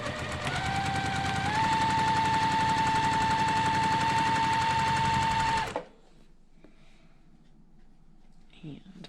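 Sewing machine chain piecing a quilt block runs in a fast, loud, continuous rattling burst for several seconds, then stops abruptly, leaving a quiet room with faint handling noises.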